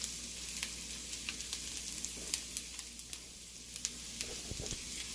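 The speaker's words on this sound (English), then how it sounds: "Now I'm going to stir this around for about 1 minute." Minced garlic sizzles steadily in a hot pan for a salsa roja with chicharrón, a continuous bright frying hiss broken by small crackles and pops and a few soft scrapes of stirring.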